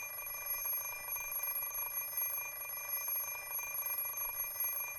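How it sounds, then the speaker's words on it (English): An alarm clock rings in the Fate/stay night PC game, a steady, continuous electronic bell tone that persists unchanged from start to finish with no voices. "The alarm clock doesn't speak my language. So why does the ringing sound like it's telling me you're going to be late?"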